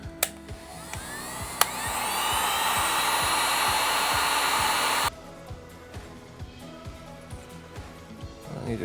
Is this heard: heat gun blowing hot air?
yes